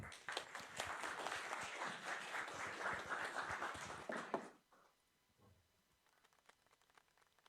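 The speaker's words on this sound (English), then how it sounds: "Applause for them." Audience applauds a game jam team at a university event, several seconds of lively clapping that cuts off abruptly, leaving faint room noise and small sounds.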